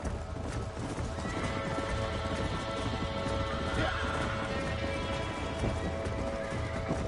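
Horse hooves gallop at a steady clip-clop in the Western video game Red Dead Redemption, with a whinny rising partway through over continuous game ambience and faint talk.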